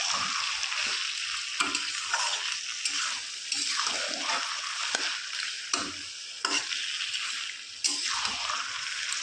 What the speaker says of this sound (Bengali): পাতি হাঁসের মাংস রান্না হচ্ছে।